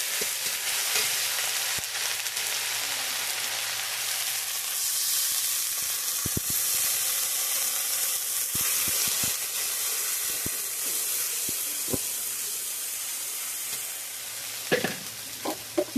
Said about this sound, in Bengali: পেঁয়াজটা ভাজা ভাজা হয়ে এসছে, পেঁয়াজের ভিতরে দিয়ে দিলাম রসুন পেস্ট, আদা পেস্ট, কাঁচা লঙ্কা পেস্ট